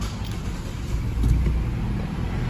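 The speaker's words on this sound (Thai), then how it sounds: "ทดสอบสตาร์ทนะครับเหยียบเบรกกดที่ปุ่มหนึ่งครั้งนะครับ" A Mazda CX-30 engine starts via push-button start, giving a low, steady rumble that swells slightly partway through and settles into a continuous idle close by.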